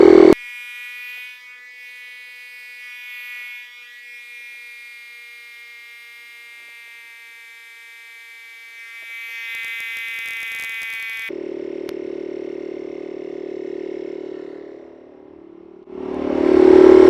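An OutdoorMaster Dolphin electric SUP paddleboard pump inflates a board to around 10–14 psi, giving a steady motor whine and drone that runs the whole time, with its pitch and load shifting partway through.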